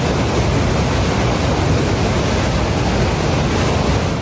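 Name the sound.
ocean waves around a small boat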